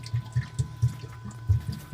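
Water drains down a sink in a van fit-out with a hose running out the back, giving a rhythmic series of low gurgles and glugs, close and fairly loud, with no talking.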